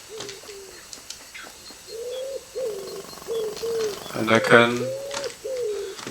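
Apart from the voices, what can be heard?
owl hooting in video game Alba, a wildlife adventure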